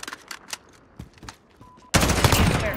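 Gunfire in Call of Duty: Modern Warfare, a few scattered shots and then a sudden loud, dense burst of automatic fire at close range, alone without talk.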